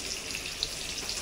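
Pomfret fish sizzles and crackles in a frying pan as it is flipped, a faint, steady hiss with small pops.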